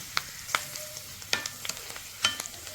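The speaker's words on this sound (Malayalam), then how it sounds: "ഇനി നമ്മുടെ കൊണ്ടാട്ടത്ത് നമ്മൾ ഉണങ്ങി വെച്ചിരിക്കുന്നത് അങ്ങോട്ട് ഇട്ട് കൊടുക്കാം" Dried jackfruit seed kondattam frying in hot oil, a steady close sizzle broken by a few sharper crackles and pops spaced irregularly over a few seconds, with no talk.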